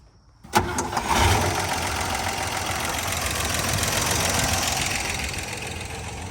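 A 1962 GMC Fenderside truck with a V12 engine cranks once and fires, then settles into a steady, loud idle rumble that holds for several seconds.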